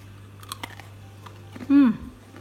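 Crunchy fried onion chips (kripik bawang) being bitten and chewed up close, a few crisp crackles, then a short vocal sound near the end.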